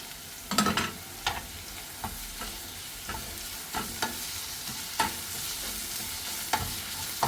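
Onion, ginger, garlic and green chilli fry in a pan under a steady close sizzle, broken by repeated scraping stirs at a loose, unhurried rhythm.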